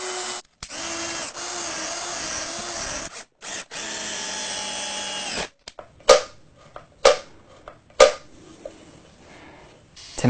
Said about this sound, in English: Just extending the pilot hole.